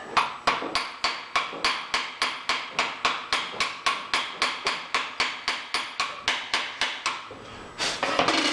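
Slag chipped off a fresh horizontal weld on a steady rest build: a rapid, even series of about thirty sharp metallic hammer strikes, close and crisp, ending in a brief scrape.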